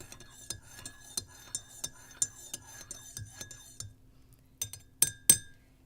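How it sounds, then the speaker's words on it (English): A spoon stirs coffee in a cup, making a steady run of bright metallic clinks against the glass or ceramic at a quick, even rhythm, then a pause and a few final louder taps, close and alone. "I'm going to stir everything together now"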